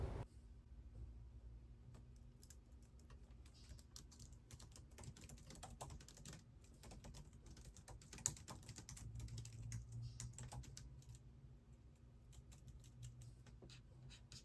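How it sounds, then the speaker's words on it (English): Someone types an essay on a computer keyboard, producing quiet, steady, rapid key clicks with brief pauses, close by in a calm room. "I had to finish typing it out."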